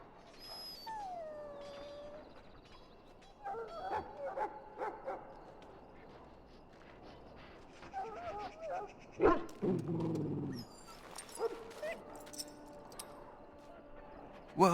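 A dog in the fantasy game Dragon Age: Origins whimpers and yips in short, close bursts, with a few barks and game sound effects between quieter stretches.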